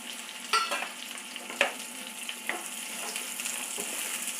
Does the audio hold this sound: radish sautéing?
yes